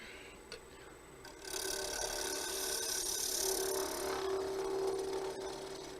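A woodturning gouge cuts into wood spinning on a lathe, a steady rough hissing scrape that begins after a quiet start and holds for several seconds, close and moderately quiet.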